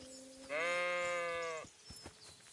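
A sheep in the Kingdom Come 2 video game lets out one long, loud, wavering bleat lasting about a second, close by, followed by a few faint knocks and rustles.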